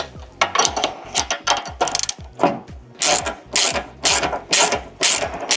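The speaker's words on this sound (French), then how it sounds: "Donc en prenant deux clés de 17, on vient étenir et serrer d'un côté." A ratchet wrench with a 17 mm socket tightens nuts on a Mercedes Sprinter door, giving loud, close bursts of rapid clicking in repeated strokes with short pauses between them and no talk.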